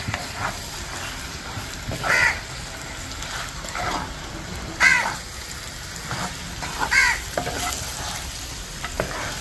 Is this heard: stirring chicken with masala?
yes